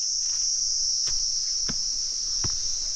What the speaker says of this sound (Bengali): পুরো ঝিঝি পোকার আওয়াজে কিছু বোঝা যাচ্ছে না